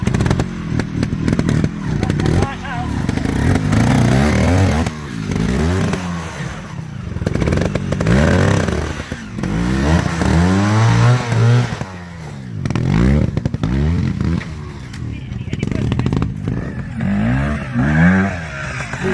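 A 250 trials motorcycle runs roughly at a trials event, its engine revving up and down in uneven surges with sputtering, clattering bursts, close and loud throughout.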